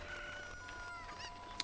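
Chicken clucking in the video game The Legend of Zelda: Ocarina of Time, a short run of soft game clucks over a steady background tone, with a sharper, louder cluck at the very end.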